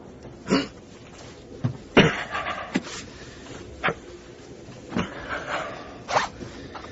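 A bag's zipper is pulled open in jerky bursts, scraping and rasping at irregular intervals with brief pauses, close and fairly loud.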